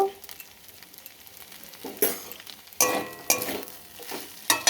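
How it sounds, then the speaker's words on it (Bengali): Cauliflower curry frying in a pan while being stirred, with sharp bursts of sizzling and scraping strokes every second or so over a quieter background hiss, close by. "একটু নাড়াচাড়া করে নিই, কষিয়ে নিয়ে ঘি গরম মশলা দেব।"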